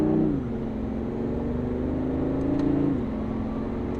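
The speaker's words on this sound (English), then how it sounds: "You can hear the motor really start to pick up where the battery lacks." A 2017 BMW i8 hybrid sports car with a full carbon shell accelerates under engine power, a steady mid-pitched engine drone that rises in pitch, holds, then drops as it shifts, loud and close throughout.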